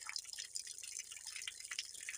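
Running tap water flows steadily while the pH of water is checked during preparation of a glyphosate spray solution acidified with citric acid. The sound is a faint, continuous, high-pitched splashing hiss with no voices.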